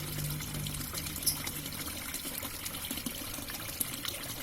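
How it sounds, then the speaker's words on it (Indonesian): Outflow water from a hydroponic system pours steadily back into its reservoir, a continuous close trickling splash with no talking. "output dari hidroponik yang masuk kembali ke penampung ini semakin deras"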